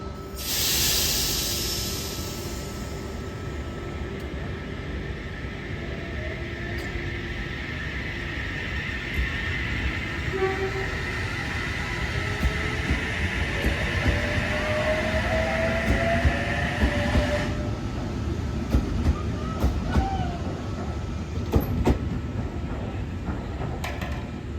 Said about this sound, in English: just pulling in across from me here onto platform 1, we have H41, an all station service to Sydney.